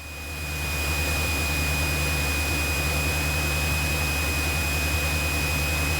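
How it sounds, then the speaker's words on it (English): Small airplane engine running at a constant loud drone with a steady whine as it holds full power for a short field takeoff, no talk over it. "So we're going to do a short field takeoff."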